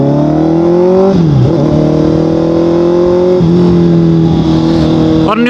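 A car fitted with an Austin Racing exhaust revs loudly and close, its engine note rising and falling in several sustained pulls with a sharp blip at the end.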